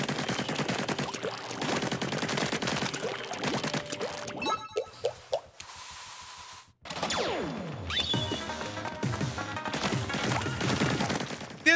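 Rapid bursts of ink-weapon fire from Splatoon 3 gameplay, dense crackling volleys with brief pauses and splashy impacts, loud and close, continuing across most of the span with game effects layered in.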